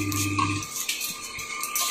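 Soaked Gobindobhog rice is stirred with ghee in a pot, giving soft scraping and faint metallic clinks of a utensil against the pot, close and quiet, with a low hum fading early on.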